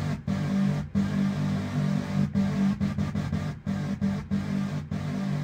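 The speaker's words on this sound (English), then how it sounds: "this is the original synth sound I did. It's just normally it sounds like this." A low, buzzy unprocessed synthesizer patch drones with a harsh, gritty texture, chopped by frequent brief dropouts into an uneven stuttering rhythm.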